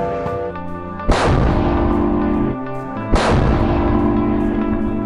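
Two loud, deep booms from the world's largest-caliber mortar firing, each a sudden muffled blast with a long rumbling tail, spaced about two seconds apart over a lingering musical background.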